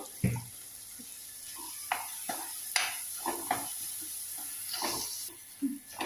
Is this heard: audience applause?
no